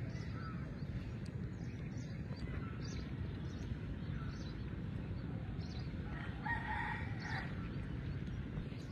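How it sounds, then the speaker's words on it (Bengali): A rooster crows somewhere off in a village by a riverbank, faint and distant, its call rising over a constant low rumble of wind or outdoor background noise. "ওইখানে একটা মোরগ আছে, ডাকতেছে"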